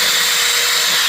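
A power drill bores into a metal roofing panel laid over shingles, a steady loud whine running continuously before cutting off abruptly at the end.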